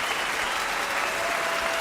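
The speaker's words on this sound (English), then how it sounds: "Man, them hand claps are really going, huh?" A burst of hand-clap applause fills the short stretch, dense and even, like a sound effect standing in for a live audience.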